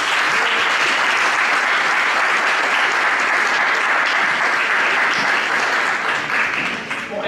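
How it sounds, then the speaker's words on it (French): An audience at a Miss France event in Châtillon-sur-Seine applauds a runner-up, dense sustained clapping from a large crowd filling the room at full volume, tapering slightly near the end. "Je vous demande d'applaudir celle qui représentait la Guadeloupe et qui a terminé 4e dauphine."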